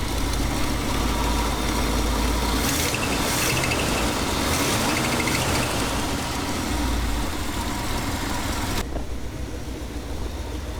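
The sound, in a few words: 1969 Ford F-350 truck engine running and idling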